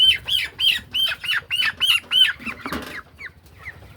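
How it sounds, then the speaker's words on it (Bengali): A small chicken of about a kilogram, caught on a poultry farm, beats its wings in a rapid series of loud flapping bursts with squawks, then the flurry fades into a few weaker flaps. "এই মুরগিটা ধরি, ছোট একটা মুরগি"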